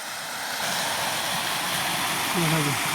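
Overflow from a weir above Tanod waterfall in Nam Som, Udon Thani, rushing in a constant, loud wash of noise, with a short voice near the end riding over it.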